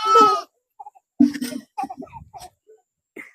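A goat gives one short, nasal bleat, followed by a few brief, scattered human voice sounds.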